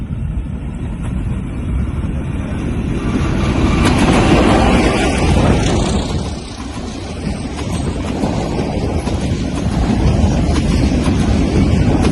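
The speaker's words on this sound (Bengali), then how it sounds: "আপনারা সবাইকে আমরা আজকে ট্রেন দেখাবো" Train passing close by, a loud continuous rumble and rush with heavy wind buffeting, swelling and dipping briefly before continuing.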